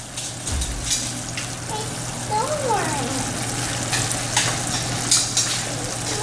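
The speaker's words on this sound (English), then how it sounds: "the sugar is boiling" Sugar syrup for Italian meringue bubbles and hisses steadily in a pan, a continuous close sizzle with a faint voice in the background.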